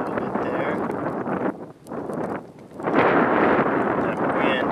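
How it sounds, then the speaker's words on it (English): Gusts of wind buffeting the microphone outdoors beside a Firebox camp stove burning coconut shells, a steady broadband roar that dips briefly and then swells louder, with someone speaking at times. "That wind is stoking my hot coals."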